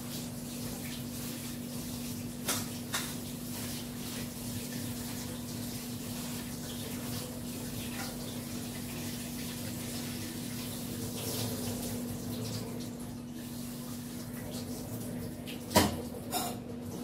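Tap water runs steadily into a container as freshly cut greens are rinsed in salted water, a faint, continuous splashing hiss with a low steady hum beneath and a couple of soft clunks.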